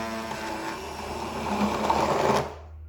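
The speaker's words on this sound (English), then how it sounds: "All I have to do now is to prepare myself with a nice little hand stick blender and give it a mix." A hand stick blender whirs steadily while mixing a chocolate mirror glaze, a continuous motor hum that rises slightly in strain before cutting off abruptly near the end.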